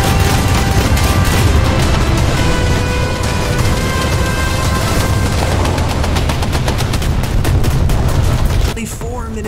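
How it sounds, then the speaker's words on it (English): Anti-aircraft guns firing at WW2 bombers in a combat video game: a loud, dense, continuous barrage of rapid gunfire and booms that runs for several seconds and then cuts off near the end. "I love seeing all the anti-air flip around everywhere as the bombs drop close by, shooting them in so many different directions"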